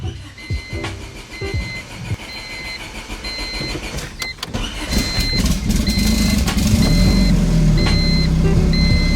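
A twin-turbo car engine runs close by, starting with clicks and rattles, then settling into a loud, steady mechanical drone with a faint whine on top.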